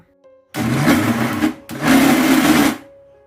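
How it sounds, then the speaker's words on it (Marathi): A mixer grinder whirs loudly in two short bursts, switched on, briefly off, then on again before stopping, blending flour and curd into batter. "मिक्सरला लावून सुरुवातीला फक्त ऑन ऑफ करा"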